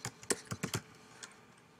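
A short burst of typing on a computer keyboard as an address is entered, about half a dozen crisp, close key clicks in quick succession, then a single faint tap before quiet.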